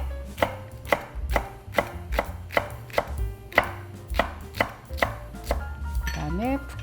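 Green onion sliced with a knife on a cutting board, about a dozen crisp, evenly spaced chops close by, followed by a short clatter at the end, with no voices.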